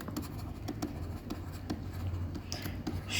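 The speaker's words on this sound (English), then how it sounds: "Let's write it down." Pen or pencil scratches on paper in quick irregular strokes, close and faint, with no speech.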